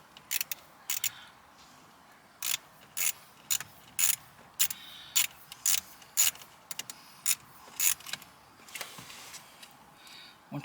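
Ratchet wrench turning out Phillips head screws on a 2006 Honda Odyssey ignition switch, heard as repeated short bursts of sharp clicking in close, rhythmic strokes with brief pauses between them, no voices.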